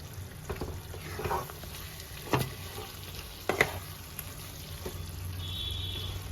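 Jackfruit curry (echorer dopiaza) being stirred in a pan with garam masala, a steady low sizzle with several sharp scrapes and clinks of a spoon against the pan, no talking.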